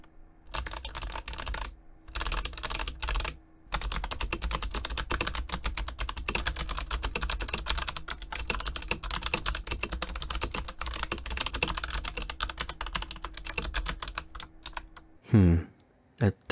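Rapid typing on a Leopold FC980M mechanical keyboard fitted with a tape mod, a dense run of close, crisp keystrokes with a couple of short pauses near the start and a heavier spacebar-like thunk near the end.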